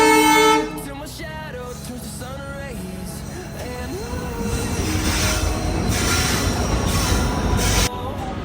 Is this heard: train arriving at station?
yes